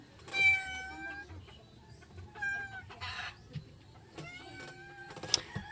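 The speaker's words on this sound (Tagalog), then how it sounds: "ingay ng pusa" A cat meows repeatedly in rising, drawn-out cries, mixed with clucking fowl nearby; short pauses separate the calls.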